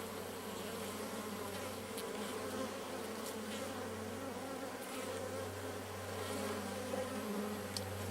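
Honey bees flying around a top bar hive, a dense, steady humming buzz from many insects that stays fairly soft and continuous throughout, with no voices.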